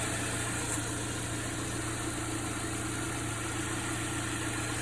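A Saab 9-3 Aero engine idles under an open hood, running steadily with a smooth low hum and a faint higher whine, close by and with no talking.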